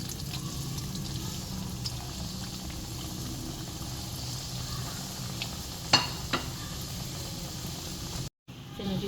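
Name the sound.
frying chicken cheese box patties in Rehman oil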